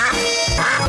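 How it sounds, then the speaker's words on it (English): A single short cartoonish quack sound effect from the 2D video game Avid Soul, loud and close, with a bright tone lasting under a second. "Also, you can quack."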